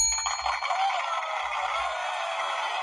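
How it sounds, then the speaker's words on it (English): A bright bell ding rings out in a sports broadcast segment during a rundown of college football matchups, a sustained metallic tone that lingers and slowly fades, fairly loud with no talking over it. "Bing that bell."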